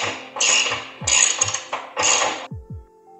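Tightening the rear screw on a tank lift fitted to a Harley-Davidson Street Bob 114 Softail, heard as several loud, close bursts of ratcheting tool clicks separated by short pauses, ending in two descending metallic creaks and quiet.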